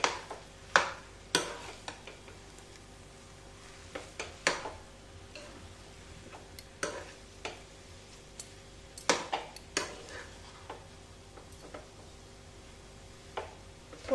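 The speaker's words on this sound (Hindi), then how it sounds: "अब हम सभी मसालों को वापस से मिक्स करेंगे" Masala and potatoes roasting in a pan over a medium-low flame, with a low sizzle under intermittent sharp clicks and scrapes of a spoon stirring. The stirring comes in uneven bursts, close by, with no speech.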